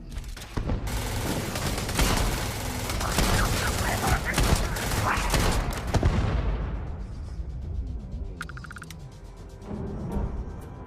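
Rapid bursts of gunfire from enemies being shot in the space game Starfield, dense and loud for about six seconds, then thinning out into scattered shots and game effects.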